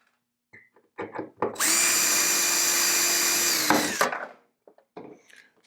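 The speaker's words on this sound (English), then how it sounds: "I'll just center it in the middle of the pop rivet. I'll just drill" A small power drill bores out a pop rivet holding quick release fasteners on a track bike: a sustained whining drill run of about two seconds, close and loud, framed by brief handling clicks and knocks.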